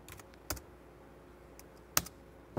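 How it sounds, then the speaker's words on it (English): Sparse keystrokes on a Mac computer keyboard while a password is typed, three or four distinct clicks spaced out over quiet room tone. "now I'm typing in"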